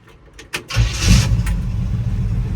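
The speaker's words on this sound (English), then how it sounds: "I'm just gonna hop in here, fire it up." A 1966 Chevrolet C10 short bed with a 350 V8 and dual exhaust cranks briefly, catches with a loud burst, and settles into a strong, steady idle close by.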